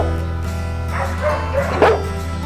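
A pitbull at a shelter for abandoned dogs gives close, steady whining barks and yips over a constant low hum, loud and unaccompanied by talk.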